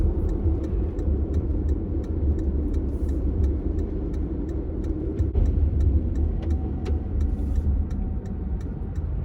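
A car drives through an intersection and makes a turn during a driving lesson, giving a steady low engine and road rumble from inside the cabin, with a faint rhythmic ticking like a turn signal.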